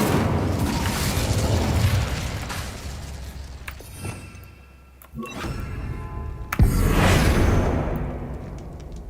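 Incendio fire spell cast in Hogwarts Legacy, heard as a sequence of booming magical blasts with bursts and crackles, dipping quieter in the middle before a sharp loud impact and a roaring swell.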